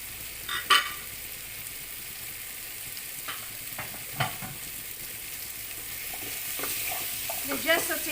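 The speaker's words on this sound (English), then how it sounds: "We just saute this first before we'll put our meat back in the pan." Potatoes, carrots and green peas sautéing in a pan for beef afritada, a soft steady sizzle broken by occasional scraping stirs and clicks of a utensil, fairly quiet and close with no voices.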